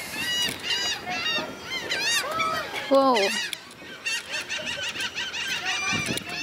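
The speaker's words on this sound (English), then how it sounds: "they are a specific kind of bird, they're a seagull" Loud, repeated squawking gull calls close by, overlapping one another, with a brief exclaimed word from a person among them.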